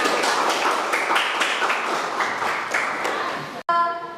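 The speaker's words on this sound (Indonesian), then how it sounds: "Beri aplaus untuk kita semua." Students in a classroom clap their hands together in a steady, loud rhythm of rapid claps, then stop abruptly, followed by a brief ringing tone.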